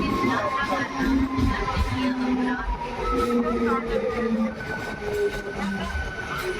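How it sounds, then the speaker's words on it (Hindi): A MEMU passenger train departs Digod railway station, its steady rolling rumble and wheel noise filling the clip continuously at close range, with faint station crowd murmur underneath. "2 मिनट के स्टॉपेज के बाद ट्रेन डिपार्चर हो रही है दिगोद रेलवे स्टेशन से"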